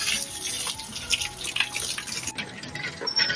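Water is splashed and poured onto a freshly built masonry wall to cure the mortar, giving irregular close splashes and trickles with short bursts over a few seconds and no talk.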